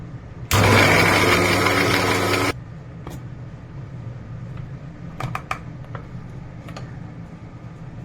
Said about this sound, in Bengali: এবার এটাকে আমি মিক্সিতে একবার ব্লেন্ড করে নেব